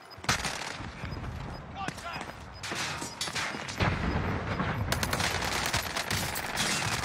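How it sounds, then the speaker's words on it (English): Video game gunfire under hostile attack, dense bursts of automatic shots and scattered single reports, close and loud, running continuously with some heavier blasts. "Under hostile fire."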